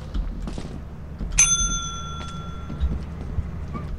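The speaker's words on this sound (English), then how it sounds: "There's a bell on the desk." A desk bell in Lethal Company gives one sharp, bright ding that rings on and slowly fades, heard close over a quiet, rumbling game ambience.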